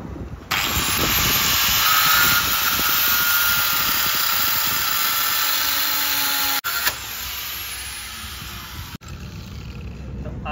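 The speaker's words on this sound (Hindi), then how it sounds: "तो अब हमारे पास ग्राइंडर है, अब हम केक को काटना है।" An angle grinder cuts through the welded kick-start mechanism on a Honda CD70 motorcycle engine, a loud, close, continuous high-pitched grinding whine that holds steady for several seconds with a couple of brief dips.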